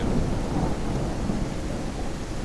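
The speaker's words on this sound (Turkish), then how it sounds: "Bayağı yağmur yağıyor." Heavy rain pours steadily while low thunder rumbles underneath, a dense, continuous storm wash, in a video game.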